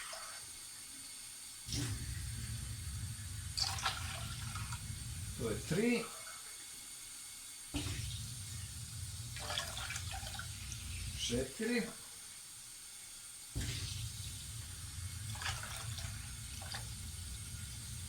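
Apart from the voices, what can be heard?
water being poured into a pot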